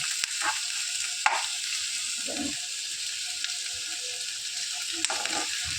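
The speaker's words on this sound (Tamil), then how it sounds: "அந்த எண்ணெயிலே புளியை வதக்கிக்கணும்." Tamarind, ginger and garlic frying in hot oil in a pan, with a steady bright sizzle and a few soft stirring scrapes, close and continuous, with no talk.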